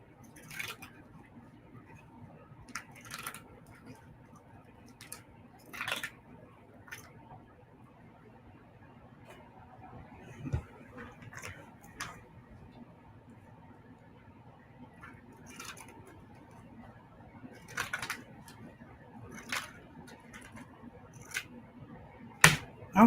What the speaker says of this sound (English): I'm going to take the pinking shears